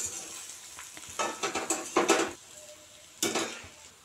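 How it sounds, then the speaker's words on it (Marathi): Spiced leftover-chapati chivda mixture is stirred in a pan, with a quiet sizzle underneath and bursts of scraping spoon-on-metal clatter coming in clusters, close and fairly soft; no voices. "आता आपल्याला याच्यामध्ये टाकायचं आहे हे मिश्रण, मिक्स करून घ्यावं छानपैकी"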